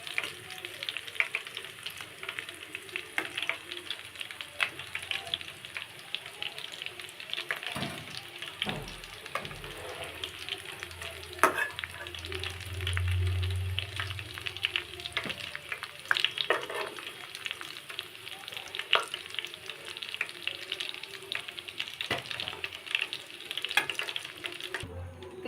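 Chicken pakoras deep frying in hot oil give a steady, bright sizzle with bubbling, with a few soft knocks and bumps along the way and no voices.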